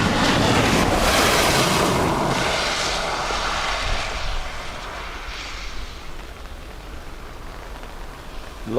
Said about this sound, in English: Logan Air ATR from Aberdeen